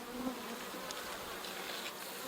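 Honey bees buzz steadily at a horizontal or vertical hive that is not being fed sugar water, a close, even insect drone with no voices.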